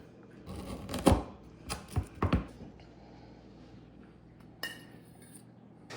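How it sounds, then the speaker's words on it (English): A knife slices into an apple galette, giving a few soft crunching cuts and scrapes with light clinks against the plate, close and quiet, with no talking. "I'm going to cut myself a nice big slice from this Apple Galette"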